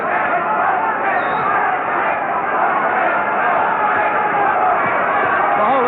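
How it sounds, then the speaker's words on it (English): At a boxing match, a crowd rises to its feet and cheers, a dense and steady roar with a voice commentating over it. "The whole of this crowd now jumping to their feet and cheering these boys on now"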